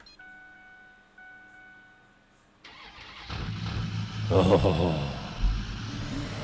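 Ford F350 truck engine in Farming Simulator 19 cranks and starts midway, then settles into a loud, rumbling run with revving swells; a tonal beep and a brief voice come before the start.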